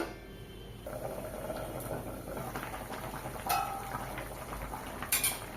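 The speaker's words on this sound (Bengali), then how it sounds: "ঝোল ফুটে গেছে" Mourola fish curry gravy with potatoes boiling in a covered pot, a steady soft bubbling hiss with faint lid and utensil clinks, close and moderately quiet throughout.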